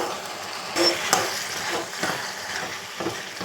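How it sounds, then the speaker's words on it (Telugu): Chicken curry with chicken masala and garam masala being stirred in a hot pan, a soft steady sizzle with scraping strokes of a spoon, a few sharper clinks against the pan, close and alone. "అన్నీ కలుపుకుందాం"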